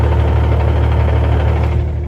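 Chattering clutch on a car fitted with a Z1 clutch kit and CSC elimination kit, a steady close-up rumble with rough vibration and uneven shudder running continuously without a break.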